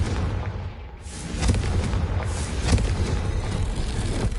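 A Confringo spell explodes in Hogwarts Legacy, loud booming blasts with a rumbling low-end after a brief dip, sustained heavy roar through the rest.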